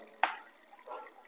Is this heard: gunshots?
no